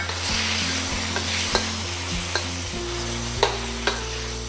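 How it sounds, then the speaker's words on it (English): Tomatoes sizzle in a hot wok, a steady close frying hiss broken by several sharp scrapes and clinks of a spatula stirring against the metal. "The wok is hot again. Tomato goes in."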